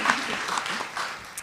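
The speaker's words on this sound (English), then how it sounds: "Let's get them one more round of applause." A panel audience gives a brief round of applause, a dense patter of clapping that swells and fades over a second or so, fairly close and moderate.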